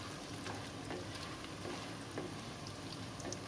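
Chilli paneer frying in hot oil, a dense continuous sizzle with crackling pops scattered through it, steady and close, with no voices.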